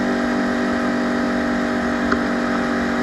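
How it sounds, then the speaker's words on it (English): A 2014 Yamaha YZF R1 1000cc supersport motorcycle rumbles steadily through its exhaust as it decelerates, a loud continuous drone heard close and without talk. "when I de-accelerate this thing, you can totally hear the toast exhaust"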